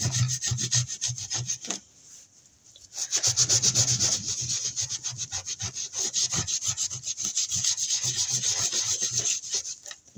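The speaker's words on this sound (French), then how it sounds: "Des lingettes. Et on vient la nettoyer." A stencil is wiped clean with wet wipes, giving steady, close scrubbing strokes in a fast rhythm, briefly pausing before rubbing resumes loudly.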